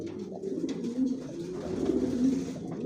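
Racing pigeons in a loft give a low, continuous murmur of cooing, several birds overlapping in soft rolling calls close by.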